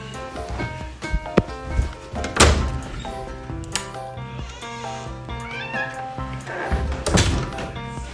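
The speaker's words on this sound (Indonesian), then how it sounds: "kucing saya mau masuk" A pet cat meows several times close by indoors, wanting to come into the room, with clear tonal calls mixed with thumps and knocks like a door being pushed.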